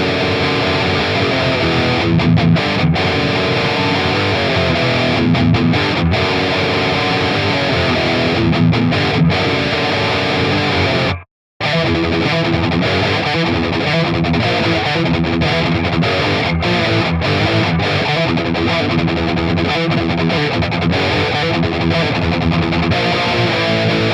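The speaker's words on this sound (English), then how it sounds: "let's do bridge pickup with distortion." A Donner DTC-100 Telecaster-style electric guitar on its bridge pickup plays dense, heavily distorted riffs, loud and continuous, with one brief silent break midway.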